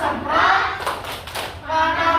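Children clap and chant together in rhythm during a visit to a fire station, voices rising and falling over a few sharp hand claps.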